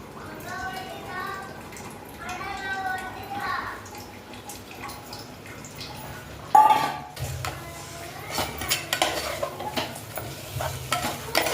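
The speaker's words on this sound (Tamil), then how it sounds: "புதினாலாம் இப்போ கொஞ்சம் நல்லா வதங்கிடுச்சு" Mint and coriander sauté with tomatoes in a pan for biryani, the spoon stirring through a steady sizzle. One loud clatter sounds midway, followed by brisker scraping strokes.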